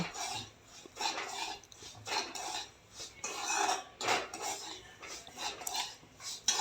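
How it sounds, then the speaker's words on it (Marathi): Fine semolina is roasted in ghee in a pan on low heat, with irregular bursts of a spoon scraping and clinking against the metal pan, heard nearby with short quiet gaps between strokes. "रवा तुपामध्ये भाजून घ्यायचा आहे."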